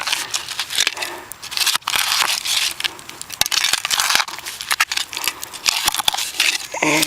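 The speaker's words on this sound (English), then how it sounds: "And just wading through shards and shards of glass and pottery." Crunching and clinking of broken glass and pottery shards underfoot and under a digger at an old dump site searched with a metal detector, dense irregular crackles and sharp clicks close to the microphone with no talk.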